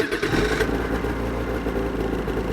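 A 2021 Ski-Doo Backcountry 600 EFI snowmobile engine, key-started, runs at a steady loud idle with a low mechanical hum and a slight shift in tone early on, alone with no talking.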